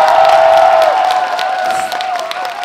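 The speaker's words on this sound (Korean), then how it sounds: "괜찮으시다면 박수" Concert audience at a year-end music concert in Boeun clapping and cheering for an encore, loud close applause with scattered whoops over a sustained tone from the sound system, slowly easing off.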